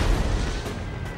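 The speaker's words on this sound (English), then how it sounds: "fire away with cannon here" A cannon booms in Empire: Total War, a single loud low blast at the start that rolls off into a fading rumble, with a second fainter report shortly after.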